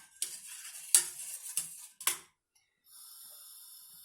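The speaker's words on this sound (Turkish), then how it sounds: "İçerisine bir tatlı kaşığı tuz koyuyorum. Şöyle koyalım. Şöyle bir karıştıralım. Tuzu erisin." A spoon stirs salt into boiling water in a pot, making a few sharp scraping clinks against the metal in uneven bursts, followed by a quiet bubbling hiss.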